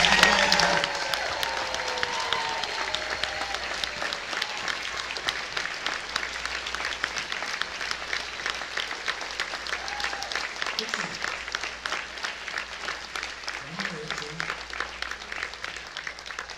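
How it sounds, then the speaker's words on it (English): An audience at a furry convention's closing ceremony gives steady, dense applause that lasts the whole stretch. It fades slightly toward the end, with a few faint voices underneath. "can everyone give them a big, massive round of applause?"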